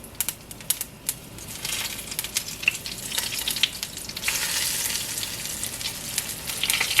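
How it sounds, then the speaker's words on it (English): Eggplants hit hot oil with sputtering mustard seeds and asafoetida for a spicy eggplant curry, giving a steady bright sizzle peppered with sharp pops and crackles that swells louder toward the end. "Once the mustard seeds start sputtering, add some Asafoetida and start adding the eggplants gently."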